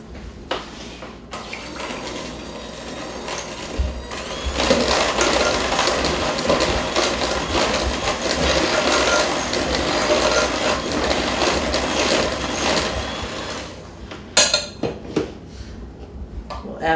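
An electric mixer creams ingredients for baking in a home kitchen, a loud continuous whirring and rattling in the bowl that starts after a few quieter seconds and stops near the end.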